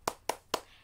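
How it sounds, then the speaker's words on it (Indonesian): A teacher in a primary classroom gives three sharp hand claps in quick, even succession, close and clear with no voices. "Kita tepuk semangat dulu."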